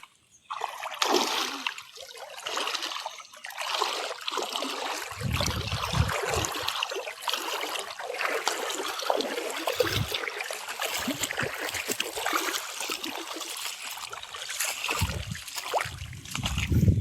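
Rushing, splashing river water runs steadily throughout, a broad noisy wash with occasional louder splashes close by.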